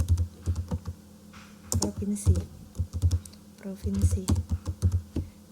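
Typing on a computer keyboard during ArcGIS attribute data entry, with bursts of quick, close key clicks separated by pauses, and a few brief spoken words in between.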